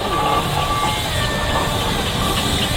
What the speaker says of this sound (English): Another heavy duty road loco, this is 1920 Fowler Dreadnought.